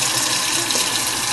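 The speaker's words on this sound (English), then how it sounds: "fill the pan up with water so it's even with the parts" Tap water runs steadily into a pan to dye plastic RC car parts, a close, even rushing splash that holds without a break.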